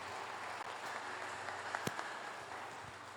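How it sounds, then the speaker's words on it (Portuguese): Faint, distant applause from a church congregation during a worship service, a soft continuous wash of clapping with no distinct individual claps standing out. "que as palmas louvem ao Senhor"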